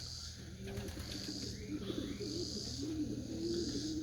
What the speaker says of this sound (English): The rest of the birds are still flying.